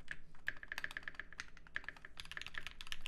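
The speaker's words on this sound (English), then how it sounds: "I do love the sound profile of that spacebar though." Typing on a Viendi 8L mechanical keyboard: quick, crisp key clicks in an uneven rhythm, close and fairly quiet, alone without speech.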